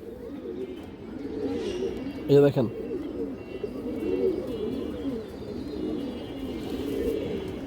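Pigeons coo in repeated soft, rolling phrases throughout, close and steady, with a brief louder flutter-like burst midway and someone talking over them.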